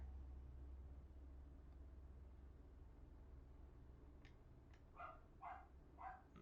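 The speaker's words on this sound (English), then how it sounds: "There's the dog barking." Dog barking in a house, a few short barks coming in quick succession near the end, fairly distant and modest in level over a low steady background hum.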